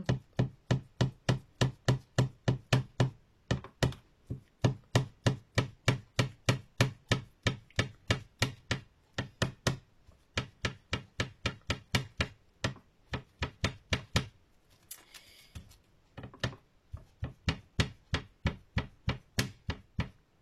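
Rapid rhythmic tapping of stencil dabbing on a hard glass plate, dozens of sharp dabs in quick succession with a brief pause midway, close by.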